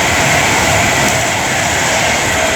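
An Avanti West Coast class 390 Pendolino, unit 390-134 on the West Coast Main Line at Tamworth, roars past at close range, a loud, steady broadband rush of wheels and air across the whole clip.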